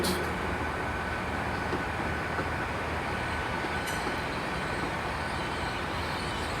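A Class 800 train formed of units 800 317 and 800 316 arrives from London Paddington at Bristol Temple Meads, a steady loud rumble and hum filling the station with no break.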